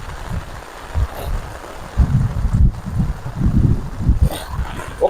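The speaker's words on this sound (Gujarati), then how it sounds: "જુઓ કેટલો પવન આવે છે." Strong wind gusts roar across open farm fields during days of heavy rain, a loud rumbling buffet close to the microphone that swells and dips, with faint voices underneath.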